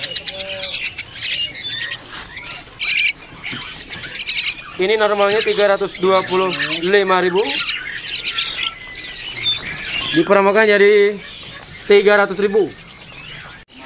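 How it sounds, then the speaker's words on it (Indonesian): Young white starlings (jalak putih) call from cages in an Indonesian bird shop, giving repeated bursts of harsh, harmonic squawking chatter mixed with higher chirps, loud and close, while someone talks about prices over them. "Di sini ada juga ya burung jalak putih anakannya nih."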